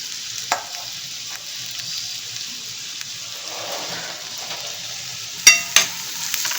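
Finely chopped onions frying in two spoons of oil in a pan for prawn masala, a soft even sizzle close by with occasional stirring scrapes and two sharp utensil knocks near the end, no talking.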